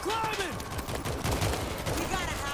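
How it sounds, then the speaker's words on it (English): Rapid gunfire from the zombie shooter game World War Z, bursts of shots crackling densely and steadily throughout under other game noise. "Taking pot shots"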